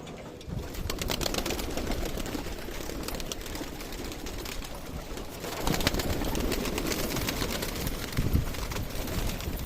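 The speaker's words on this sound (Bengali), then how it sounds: "এই পায়রাগুলোকে এখন ছেড়ে দেবো" Domestic pigeons coo and flutter close by in a steady busy flock as they are released, with a constant mechanical hum underneath and a brief louder flurry midway.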